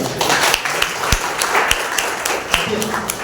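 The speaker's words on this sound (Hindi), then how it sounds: "स्वागत है आपका, जोरदार ताली बजाइए।" Congregation clapping at a Sunday church service, a dense burst of hand claps with a few louder sharp slaps standing out, mixed with voices in the room.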